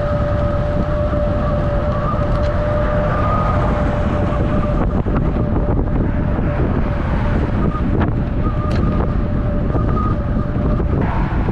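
Wind rushes steadily across the microphone during a southbound bike ride, a loud, continuous buffeting roar with a faint tonal whine running through it.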